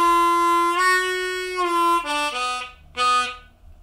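A slower run through a blues lick on an easy third tuned harmonica: a long bent draw note released, then a few distinct reedy notes with short gaps, alone and close up.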